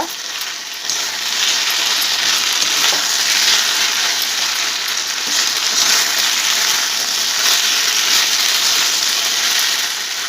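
Chilli mushroom sizzling in hot oil, restaurant style, a dense, steady, loud hiss of frying that carries on without a break, close by, with faint stirring movement underneath.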